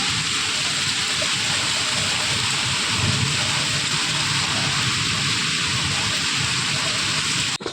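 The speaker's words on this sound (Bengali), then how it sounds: "এখন দেখো কিভাবে মুসলধারে বৃষ্টি নেমেছে" Heavy rain pours down in a dense, constant hiss, steady and loud, with no voices over it.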